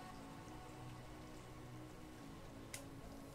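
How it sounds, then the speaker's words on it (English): Steady rain falls outside, a constant soft hiss of drops on surfaces with one brief sharper patter near the end, quiet and unbroken by voices. "Hey, it's raining out."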